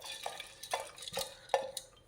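Sieved cowpeas being scooped into a pressure cooker: a few quiet, irregular clinks and scrapes of a utensil against metal, close and soft, with no voices.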